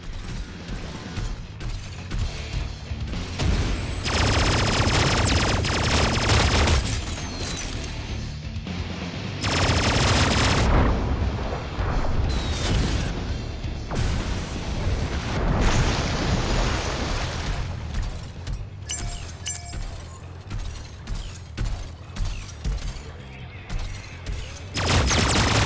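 Rapid gunfire in a space combat video game, dense mechanical bursts and clattering rattles in repeated long volleys over about twenty-five seconds, with brief lulls between strings of shots.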